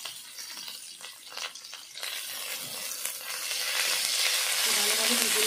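Curry leaves, chopped green chili and grated ginger frying in hot oil for singara, a steady close sizzle that swells louder and fuller toward the end, with a few light stirring clinks.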